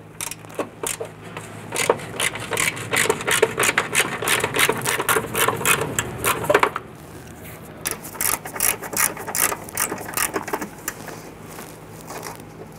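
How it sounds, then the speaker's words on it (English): A ratchet clicks rapidly in bursts while loosening and backing out small 8mm bolts from the battery tray of a 1994-2004 Ford Mustang, close up, with a brief pause midway before the clicking resumes. "we're going to go ahead and loosen and remove the 3 8mm bolts holding the battery tray in place"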